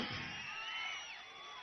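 A brief burst of crowd noise at a Jana Sena rally for Pawan: many voices shouting and cheering together in a dense, continuous roar, with a thump at the start.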